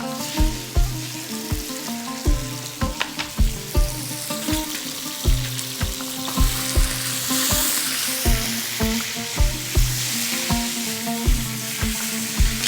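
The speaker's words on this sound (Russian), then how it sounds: "как шипит, как шкварчит?" Loud, continuous sizzling of meat frying in a hot pan for lagman, punctuated by scraping and clinking as it is stirred.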